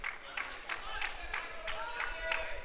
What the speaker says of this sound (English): support here from the home crowd